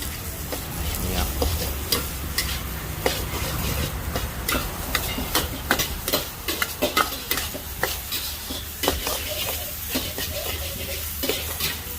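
Pad thai stir-fried in a pan over a charcoal stove, with steady sizzling and repeated metallic scrapes and clatters of a utensil against the pan, close and busy throughout.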